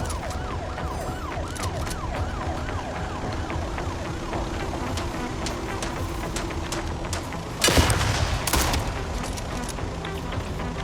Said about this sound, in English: I took 0 damage from that explosion.